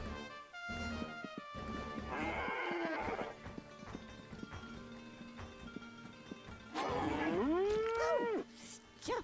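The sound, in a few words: cow mooing in the video game Conker's Bad Fur Day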